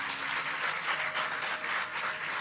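Audience applause at a religious katha recitation gathering, steady dense clapping from a crowd, moderately loud and continuous with slight pulsing throughout.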